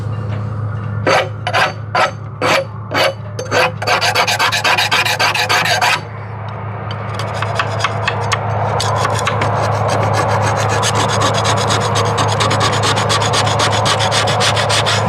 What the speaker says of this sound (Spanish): estoy dando una rascada superficial antes de aplicar pues el decapante